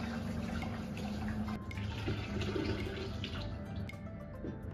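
A cleaned sea bass is rinsed in a basin of water, with sloshing and swishing water sounds, light splashes and a few small knocks, moderately close and without talk.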